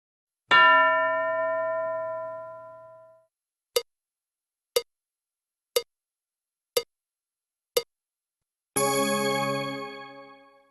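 A classroom bell rings out with a long resonant tone that decays, then five short evenly spaced dings, then another long sustained ring, clear and alone with no voices.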